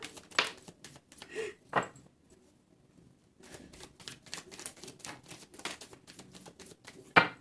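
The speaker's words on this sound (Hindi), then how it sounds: "चलिए, this is my last shuffle." A deck of tarot cards is shuffled by hand in several quiet bursts of flicking and riffling, separated by short pauses, close and fairly soft.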